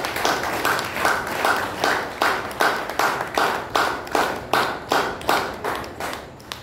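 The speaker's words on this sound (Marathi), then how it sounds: "जोरात टाळ्या" An audience at a Marathi reader-dialogue event applauds at a felicitation, its clapping arriving in regular rhythmic surges, loud and close, with no talk over it.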